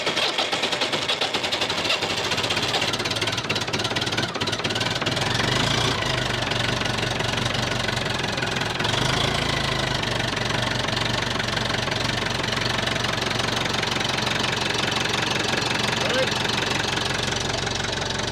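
A Perkins 3.9 four-cylinder diesel in a Massey Ferguson 270 tractor idles on first start, a loud steady knocking clatter running throughout, close up, with a brief change in tone partway through.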